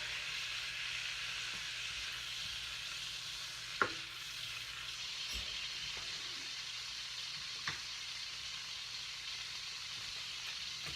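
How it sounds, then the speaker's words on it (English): Butter melts and sizzles in a pan while cornbread is being made: a soft, steady frying hiss with a few faint clinks and stirring knocks scattered throughout. "the butter is almost melted"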